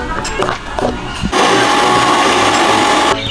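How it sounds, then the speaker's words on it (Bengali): Poppy seeds are ground in a mixer grinder: after a few clattering knocks, the motor kicks in with a loud, steady whirring drone for nearly two seconds, then cuts off abruptly. "পোস্ত দানাটা মিক্সচার মেশিনে দিয়ে দিলাম বন্ধুরা"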